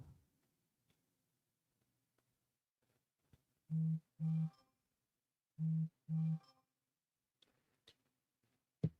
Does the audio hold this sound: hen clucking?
no